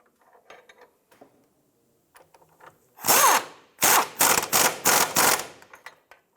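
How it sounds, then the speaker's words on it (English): A power tool rattles as it tightens the rear control arm bolts on a 2005-2007 Ford 500. After light clinking, several loud, close bursts of rapid hammering follow one after another. "Let's tighten down the two rear bolts here."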